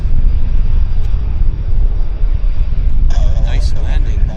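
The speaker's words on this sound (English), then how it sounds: "Quite a nice landing by Zhao." An airliner landing at Vancouver Airport, a steady loud roar of engine and wind noise that holds throughout, with a brighter whine rising near the end.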